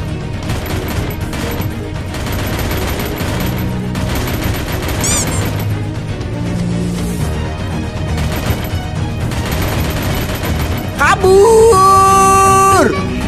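Rapid bursts of gunfire and explosions in a shooter video game, loud and continuous, mixed with game effects and a rising electronic tone near the end.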